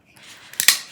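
Scissors snipping through tight plastic wrapping on a plant package, two quick sharp close cuts following a faint rustle.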